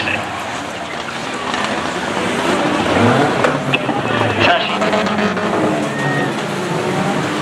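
Banger cars race on the Arlington oval, a steady roar of many engines with occasional scrapes and squeals. A commentator talks over the track noise throughout.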